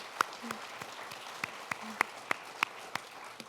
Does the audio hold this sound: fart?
no